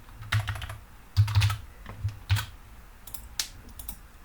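Keystrokes on a computer keyboard while typing a heading into a web page, short bursts of clicks in irregular clusters, close and moderately loud, with no talking.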